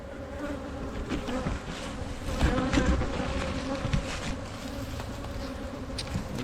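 Honey bees buzzing at an open hive frame in a cell builder colony, a dense, steady hum of many insects close by with fluctuating intensity and no speech.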